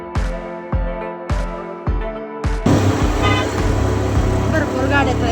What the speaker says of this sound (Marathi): भरपूर गाड्या आहेत, गर्दी भरपूर दिसते आज.